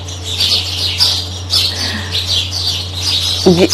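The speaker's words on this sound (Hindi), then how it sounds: "तो अभी आपको ये खामोशी से सुने चिड़ियों की आवाज़ें आ रही होंगी।" Sparrows chirp in busy, overlapping morning bursts throughout, a steady chorus of short tweets with a low hum underneath.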